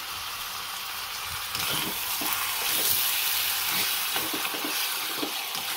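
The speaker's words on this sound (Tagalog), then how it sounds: "ilalagay ko na yung aking chicken. Sasangkot ko siya hanggang sa lumabas yung katas niya." Chicken sautés in a pan for chicken tinola with a steady, even sizzle, joined midway by soft stirring scrapes as the frying grows slightly louder.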